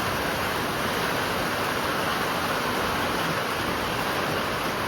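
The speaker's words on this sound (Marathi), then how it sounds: "पुण्यात आपल्या पाऊस पडतोय, लय जोरात नाही का, लय जोरात पडतोय" Heavy rain pouring down in Pune, a loud, steady broadband hiss of dense rainfall that holds without a break throughout, with no voices heard.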